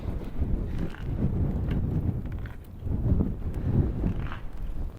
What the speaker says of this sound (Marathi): हा एक मोठा टर्न आणि वारा तर भरपूर चालू वरती.